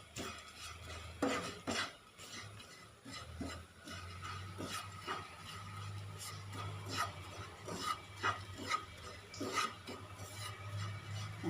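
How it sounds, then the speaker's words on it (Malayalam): Masala powders dry-roasting in a hot pan for ulli theeyal, a spatula scraping and rubbing across the metal in a steady, quiet rhythm over a low hum, with no voices. "ഈ ഒരു ചൂടിൽ നമുക്കിങ്ങനെ ഒന്ന് വറുത്തെടുക്കാം."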